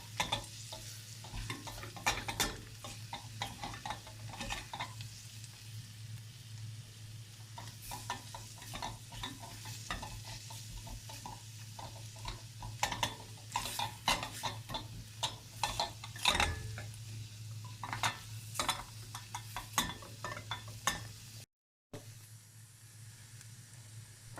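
Flour is stirred and roasted in a pot for a creamy sausage soup, with repeated spoon scrapes and taps against the metal over a soft, low sizzle, close and steady throughout.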